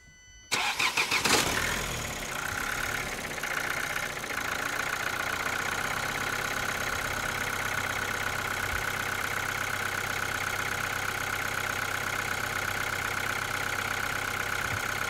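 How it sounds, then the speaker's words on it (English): A 2013 Vauxhall Astra J 1.7 CDTi diesel with a high fuel pressure fault cranks briefly, catches, and settles into a steady, even idle with a faint whine, close and alone without any voices. "Start the car, Rudy."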